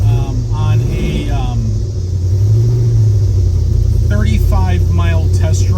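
A 1970 Ford Mustang Mach 1 on the road, its engine giving a steady, loud low rumble throughout while people talk over it inside the car.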